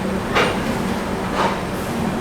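The 15818 Donyi Polo Express rolls into platform 3 at Guwahati railway station, a steady loud rumble of wheels and carriages with two brief hissing surges, heard from on board.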